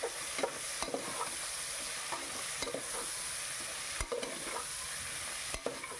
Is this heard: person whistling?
no